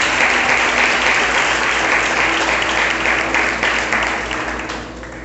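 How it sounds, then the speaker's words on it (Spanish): A church congregation bursts into loud, sustained applause for the Lord, a dense wash of clapping hands that fills the room and begins to taper off near the end. "Brinden un fuerte aplauso al Señor."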